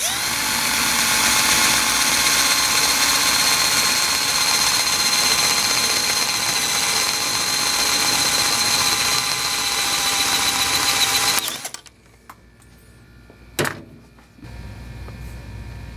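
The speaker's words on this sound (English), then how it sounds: "Watch what happens when you use a standard drill bit." A power drill with a standard drill bit drills into a metal cushion clamp, whining loudly and steadily for about eleven seconds, then cuts off abruptly, leaving a quiet room with a brief clank.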